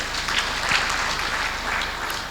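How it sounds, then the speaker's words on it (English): An audience at the Benue local investors forum applauds the governor with steady, moderately loud clapping that fills the room evenly throughout. "A round of applause for the governor."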